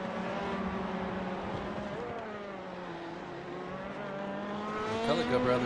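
LMP2 prototype race cars in the iRacing sim at Indianapolis Motor Speedway, a steady droning engine note that climbs slightly near the end, heard under continuous commentary.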